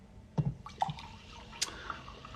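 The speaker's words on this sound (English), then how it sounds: "I'm gonna have some more sparkling water." Sparkling water poured into a glass indoors, a few brief close splashes and drips with a faint fizz, quiet and alone with no talking.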